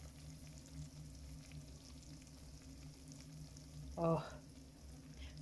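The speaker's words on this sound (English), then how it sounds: "a fresh lasagna straight out of the air fryer, still bubbling away" A fresh vegetable lasagne just out of the air fryer bubbles and sizzles softly under a quiet hum, with a brief spoken exclamation partway through.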